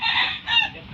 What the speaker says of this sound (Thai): โอ้ไก่เพิ่นก็หลายเด้อ